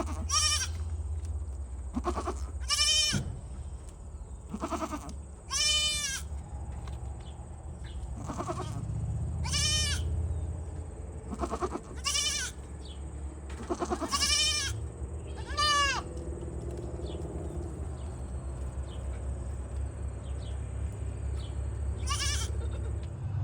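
Goats kept to clear fence-line vegetation, bleating repeatedly and loudly close by, a dozen or so wavering calls spaced irregularly over a low outdoor rumble.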